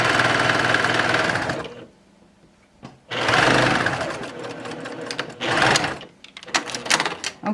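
A sewing machine stitches a cardigan seam in loud, fast buzzing runs, pausing briefly in between and then starting again, close up.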